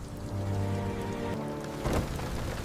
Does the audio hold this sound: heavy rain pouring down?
yes